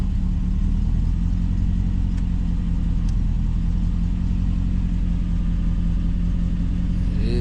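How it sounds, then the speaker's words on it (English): A 1994 Chevrolet Caprice engine idles steadily after starting, with a loud, continuous low rumble and a mid-range hum that hold even from start to finish, with no voices. "Let me start him back up. Yeah, start right up."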